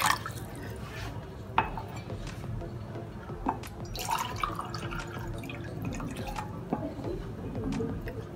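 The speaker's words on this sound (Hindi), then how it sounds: "उसके अंदर मैं 2 बड़े कप पानी डालूंगी।" Water poured into a cooking pot for kadha, a herbal brew, heard up close as quiet splashing and dripping with a few sharp clinks of the vessel.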